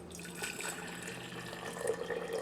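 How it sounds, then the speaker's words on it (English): Hot water is poured into a glass jar, making a soft, continuous trickling splash that stays quiet and even for a couple of seconds. "So, we've got the hot water. I'm going to pour that on in."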